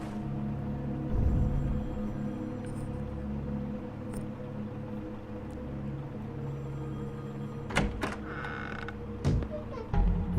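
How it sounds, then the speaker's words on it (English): In The Wolf Among Us, an iron rod scrapes against a metal lamp with a drawn-out, low metallic creak, then a few sharp knocks near the end. "It's the sound of an iron rod going up against the lamp."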